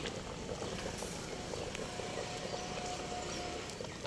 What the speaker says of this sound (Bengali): খিচুড়ি বলক এসে গিয়েছে